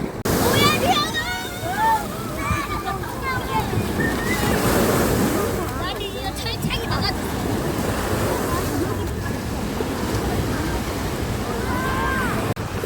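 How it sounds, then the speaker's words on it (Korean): Wind and surf on a sandy beach on a hot, clear summer morning, a steady broadband wash of waves and gusting wind noise with voices and children's calls rising now and then in the background. "해변가는 시원한 바람이 불어서 그래도 더위를 식혀주는 것 같습니다"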